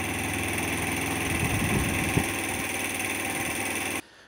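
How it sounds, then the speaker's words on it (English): A Suzuki SR125 motorcycle with a scrambler-style exhaust and new air filter idles outdoors, a steady close single-cylinder putter with a slight swell before cutting off abruptly near the end. "I left the bike to run outside until everything had dried off."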